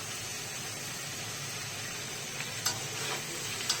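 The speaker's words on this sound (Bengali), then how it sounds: "এইভাবে উলট পালট করে এঁচড়গুলোকে ভেজে নিচ্ছি।" Green jackfruit pieces frying in oil and being turned over, a soft steady sizzle with faint stirring scrapes and a couple of light clicks toward the end.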